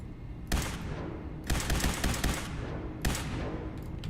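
An Overcharged Institute Rifle in Fallout 4 fires semi-automatic: three loud, punchy bursts spaced about a second or more apart, each with a crackling energy tail that decays slowly.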